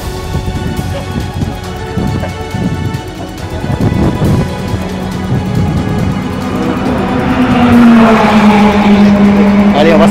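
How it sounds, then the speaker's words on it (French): A Peugeot V10 racing engine of about 700 horsepower, in a three-seat Formula 1 car, fires up with rough, rapid bursts, then builds into a loud, rising roar that keeps intensifying toward the end. "le démarrage de moteur V10 Peugeot de 700 chevaux environ"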